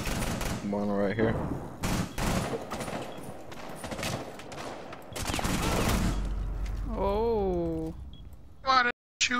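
Rapid bursts of gunfire in Rainbow Six Siege rattle through the match, interleaved with voices talking over it and other game noises, loud and close.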